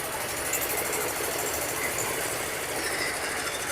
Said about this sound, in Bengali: যাত্রীদেরকে লঞ্চে উঠিয়ে দিয়ে ট্রলার আবার চলে যাচ্ছে তার গন্তব্যে